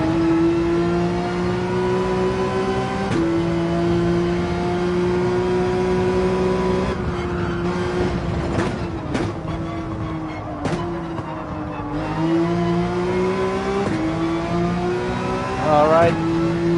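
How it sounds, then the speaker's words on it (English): Porsche 911 engine in Gran Turismo 7 at Dragon Trail, droning steadily and climbing in pitch through each gear, with several clear shift drops and a brief higher rev near the end, loud and continuous throughout. "I'm the 911, I don't rev out 4th gear like crazy in 5th gear"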